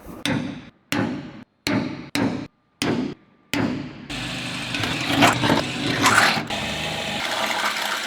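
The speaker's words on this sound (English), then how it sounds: "We'll go ahead and center punch those and drill those out with the 1/4 inch drill bit." Sharp metal taps ring out one by one, about six in a steady rhythm, as a center punch marks hole spots on a truck fuel tank mounting plate. A hiss of running noise follows.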